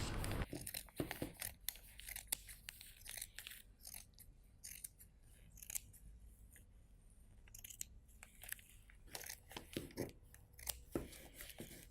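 Scissors cut through fabric and polyester batting for the front of a Chanel-style jacket, giving close, irregular snips and crisp rustles that continue over a quiet background.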